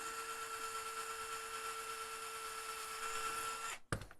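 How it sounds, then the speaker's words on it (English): A drill bit bores a hole with a steady, high whine that holds for several seconds, then cuts off abruptly with a brief clatter at the end. "I give the drill bit time to do its work."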